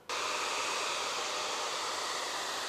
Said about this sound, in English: If I dry that with a hairdryer